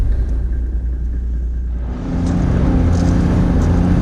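Four-wheel-drive vehicle in high range, first or second gear, rolling through soft grey sand on a bush track in Western Australia, a loud continuous engine rumble that deepens and grows busier halfway through.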